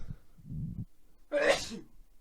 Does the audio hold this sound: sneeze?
yes